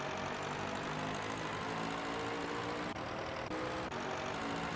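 A 1936 Delage 15S8 race car in a racing game at Indianapolis drones with a rough, steady engine note that stays dense and loud throughout, broken by two brief dips.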